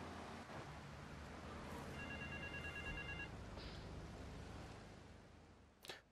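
A telephone rings in the Grand Theft Auto 3 video game, a steady electronic ringing that runs for several seconds over a continuous low game-ambience hum, with a brief louder burst near the end.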